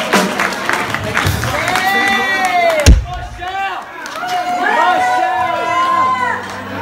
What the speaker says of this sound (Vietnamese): Xin quý vị một tràng pháo tay cho cháu Michelle Y.